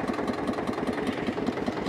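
A small single-cylinder tractor runs steadily with a rapid, even low thump from its engine, close and continuous, with no voices.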